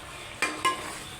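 A spoon scrapes twice through oil and curry in a pan, two quick strokes over a soft, steady background sizzle.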